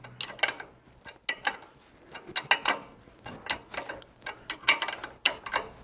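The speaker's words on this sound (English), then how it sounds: "we're gonna bolt the new Bilstein shock in on this side" A hand ratchet tightens bolts while a new Bilstein shock is fitted to a Jeep JL, with close, irregular bursts of sharp clicking separated by brief pauses.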